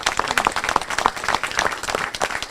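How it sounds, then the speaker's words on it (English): Audience applause at a government grant event at a technical college, a short burst of many hands clapping, fairly close and lively. "Give them a big round of applause."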